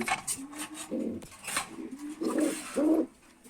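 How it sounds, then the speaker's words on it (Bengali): Breeding pigeons cooing in a loft, a few soft low coos in short phrases close by, with faint clinks and rustles in the background and no talk. "এই হচ্ছে আরেক জোড়া কবুতর"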